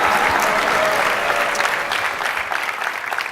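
Sustained audience applause at a live innovation event in Boston, loud and dense throughout with no speech over it, tapering slightly toward the end.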